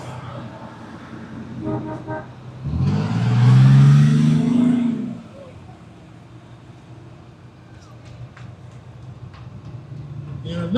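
A New Jersey Transit Custom Eagle bus at an outdoor bus festival gives a loud, wavering horn toot over an idling, revving engine, with people talking nearby.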